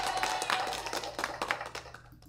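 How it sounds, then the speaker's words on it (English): Round of applause welcoming a guest artist at the start of an interview: a small group of scattered, distinct claps that thin out and fade toward the end. "Did you hear that round of applause?"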